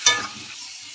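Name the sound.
pumpkin and potato frying with spices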